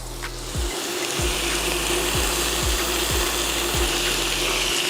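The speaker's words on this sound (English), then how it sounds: "Now, as my bacon is cooking" Strips of bacon fry in a pan for stuffed pork chops, giving a steady loud hiss. A series of low, dull thumps from the cooktop sounds under it at roughly even intervals. No one speaks.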